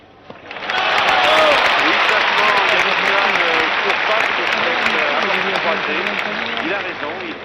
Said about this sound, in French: Il est très applaudi par le public